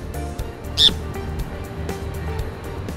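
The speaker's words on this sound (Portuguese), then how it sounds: "um passarinho estava batendo na janela, a gente conseguiu pegar ele." A small wild bird, caught after striking a window, lets out one sharp, close squawk amid faint scattered chirps and handling noises indoors.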